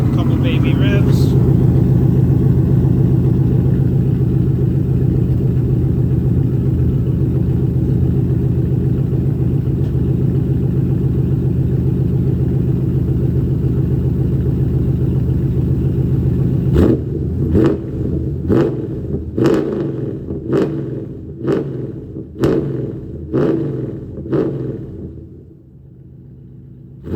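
A 1996 Pontiac Trans Am WS6 idles with a steady, loud rumble, then gets a short series of quick, light revs that rise and fall near the end, with a voice speaking over the idle.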